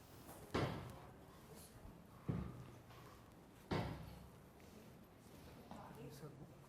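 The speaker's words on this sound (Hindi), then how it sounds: "दरवाजा तो बंद करो" An indoor door is shut three times, each a sharp, near thud spaced about one and a half seconds apart, with a faint voice and room noise in between.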